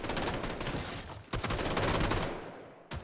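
Gunfire in PUBG during a close firefight, a dense rattle of shots blending into a continuous loud wash, with a sharp crack near the middle and another near the end.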